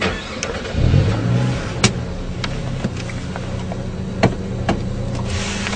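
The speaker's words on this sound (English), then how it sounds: "The technique for this is just walking the car off the line at about 2000 RPM" An automatic car engine held against the brake at about 2000 RPM before launch, a steady, moderately loud droning hum with a slight swell near the start and a few sharp clicks and knocks over it.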